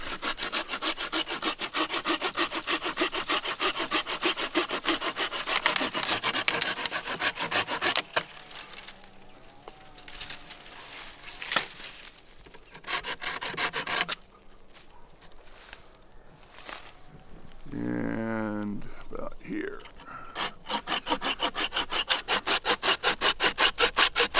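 A saw cuts through a wooden branch still attached to the ground to shape a digging stick: rapid rhythmic strokes, a pause with quieter rubbing and handling noises mid-clip, then steady sawing resumes, close and alone.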